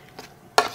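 Feta cheese, tomatoes and fettuccine stirred in a pan, a soft scrape followed by a sharper, louder clatter of utensil against pan near the end, close and alone.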